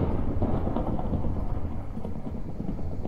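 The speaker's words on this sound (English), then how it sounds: "There's more rain." A Minecraft storm in the video game, with steady rain and low, rolling thunder rumbling continuously and heavily throughout the short stretch.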